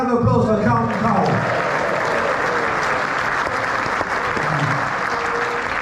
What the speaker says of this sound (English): Carlton Cole, round of applause for Carlton Cole.